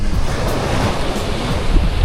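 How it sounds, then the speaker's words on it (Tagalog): Sea waves washing onto a sandy beach at sunset, a loud continuous roar of surf with heavy wind buffeting the microphone, no voices. "Ganda ng dagat guys."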